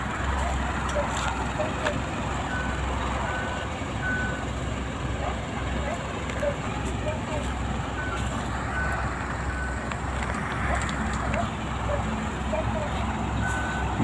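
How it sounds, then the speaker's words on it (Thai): Reversing beeps from a twelve-wheel Giga truck carrying an excavator as it maneuvers in a tight space; repeated high beeps over a steady engine rumble, with someone talking over it at times. "ดูสกิลการกลับรถครับผม การกลับในที่แคบนะครับ"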